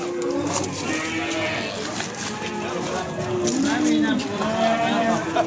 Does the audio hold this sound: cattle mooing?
yes